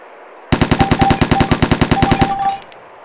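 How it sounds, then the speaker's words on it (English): A gun in the DayZ video game fires a rapid, loud, close run of about twenty evenly spaced shots on full auto, then stops abruptly and leaves a short ringing tail. "So this is burst mode. It does a 3-round burst and full."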